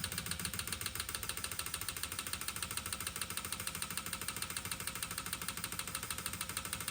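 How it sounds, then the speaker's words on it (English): Fuel injectors pulsed on a flow test bench, fast steady mechanical clicking and buzzing in a rapid even rhythm, loud and continuous throughout with no talking. "And now for the injectors. I'm just gonna pulse them a whole bunch until the bottles are probably half full"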